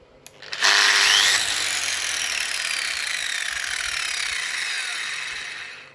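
An angle grinder with soft start is switched on, its motor spinning up with a brief delay and rising whine rather than a sudden kick. It then runs steady and loud, close by, with no talking.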